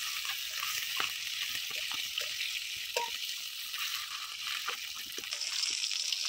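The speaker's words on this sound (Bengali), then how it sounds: "মাছ ভাজা হয়ে গেছে, মাছটা তুলে নিচ্ছি।" Fish frying in hot oil in a pan, a steady close sizzle with scattered crackles and pops running throughout, no voices.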